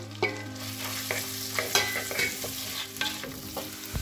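Sliced onion frying and being stirred in hot oil with whole spices in a handi, a steady soft sizzle broken by repeated scraping strokes of the spoon against the pot, close and fairly quiet with no talk.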